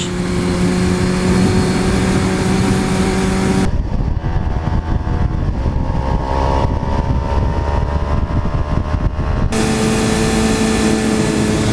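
Sport motorcycle engine droning at speed while the rider changes gears, with a sharp shift in tone partway through as the engine note drops and then returns.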